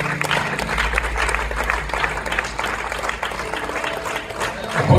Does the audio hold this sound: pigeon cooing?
no